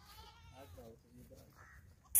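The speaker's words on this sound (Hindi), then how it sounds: "माशाल्लाह जी, कमाल की बकरी है।" A Faisalabadi Beetal goat bleats softly at a farm in Faisalabad, with brief low calls under quiet background noise and some faint talk.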